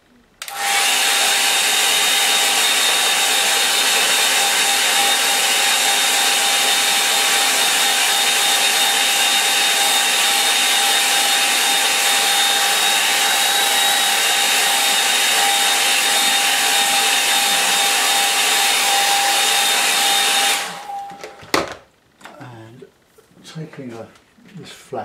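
A hair dryer blows steadily and loudly on a freshly painted line-and-wash watercolour for about twenty seconds, then cuts off, leaving quiet handling noises.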